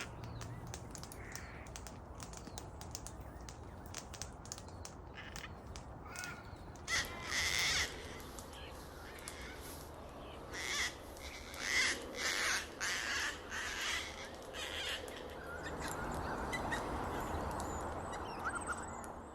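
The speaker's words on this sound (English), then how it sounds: "There's a whole lot of gang cockatoos." Gang-gang cockatoos call in a cool forest in the Blue Mountains near Lithgow, harsh creaky calls coming in bursts at moderate distance over quiet bush background.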